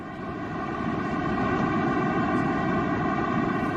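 Simulated sound of the universe's birth, a cosmic organ: a dense, loud, steady drone of stacked tones over broad rumbling noise, sustained without a break throughout.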